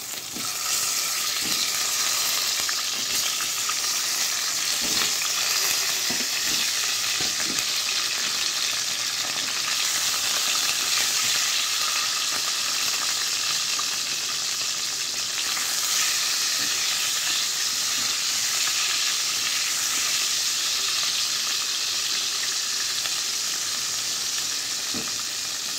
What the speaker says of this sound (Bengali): একটু হালকা হালকা ভাজতে হবে।